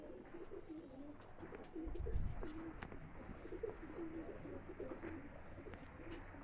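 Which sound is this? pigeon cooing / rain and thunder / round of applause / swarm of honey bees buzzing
pigeon cooing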